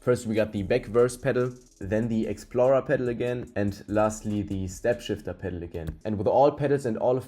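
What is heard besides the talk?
No everyday noises stand out.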